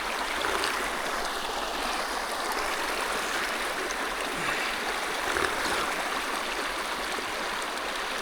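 Rushing water from a fast mountain stream on the Yakutsk–Magadan route, a dense, steady roar close by with no voices.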